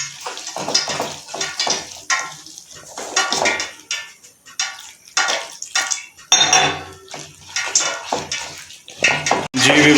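Gram flour pakora batter with spices, coriander and water is mixed in a bowl, giving a steady run of close scraping, clinking and stirring sounds with short pauses, and no talk over them.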